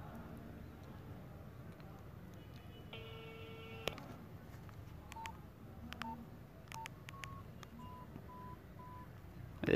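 A phone redials a number: a rapid string of keypad tones, one long tone followed by several short, spaced beeps, over faint background noise with a little speech nearby.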